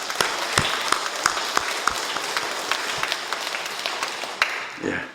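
A church congregation claps in a loose, steady applause that fades toward the end, with distinct individual claps standing out near the front and a voice briefly heard at the close.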